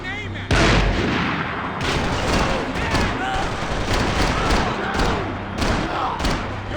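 Video game firefight with a sniper: heavy bursts of gunfire and booming thuds crack and echo in rapid, uneven succession, loud and close, with a loud onset after a brief quiet moment and continuing barrages throughout.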